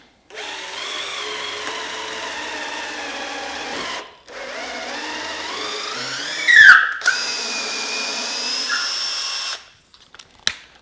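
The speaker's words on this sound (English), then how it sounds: "I like to put the tap in a drill just because it's a lot easier to actually run it through." A power drill drives a thread tap through holes in a wooden board, heard in two steady whirring runs of about four seconds each, with a brief squeal near the end of the second run and a few small knocks afterward.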